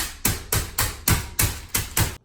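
Raw chicken being pounded flat with a mallet or hammer in a kitchen: eight heavy, evenly spaced slapping thuds, close and loud, with no talking.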